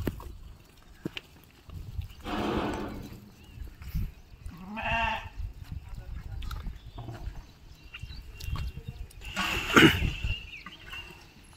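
Marga breed sheep in a farm shed give several bleats, spaced apart, at moderate distance and with no talk over them, while low shuffling and knocking carry on in the background.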